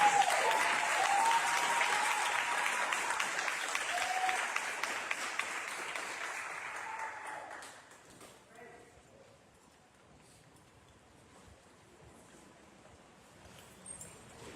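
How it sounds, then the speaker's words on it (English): Audience applause at an oratorical contest, a full round of clapping that holds steady for several seconds, then tapers off into quieter room sound with faint voices. "Can we give a round of applause for that?"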